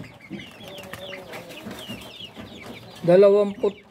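Rhode Island Red chickens in a brooding pen give soft, scattered clucks up close, then a sudden loud, squawking burst near the end.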